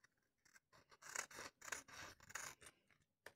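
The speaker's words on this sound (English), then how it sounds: "usually I do that with the scissors. And you just trim off the edges of this picture" Scissors trim the edges of a paper picture for a collage, giving a series of close, quiet snipping and rasping cuts in short bursts, with no talking.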